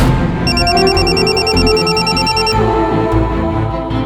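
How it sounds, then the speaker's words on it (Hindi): A telephone rings with a repeating electronic trill of an incoming call for about two seconds, loud and close over a music and drama score that continues underneath. "तभी संतोषी का फोन आया हमको"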